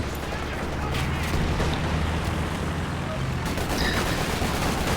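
Machine gun fire crackles through a busy strategy game battle, a continuous dense rattle of gunfire under a commentator's voice.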